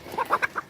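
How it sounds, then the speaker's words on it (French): A farm hen clucks in a short burst of about five quick, rising notes, moderately close and alone with no talking. "Pauvre poule."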